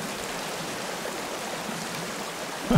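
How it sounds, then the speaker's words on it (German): Rushing river water in the video game Sons of the Forest, a steady, unbroken broadband wash flowing at an even level throughout with no talk over it. "Ich habe noch hier einen dicken Fluss daneben dran."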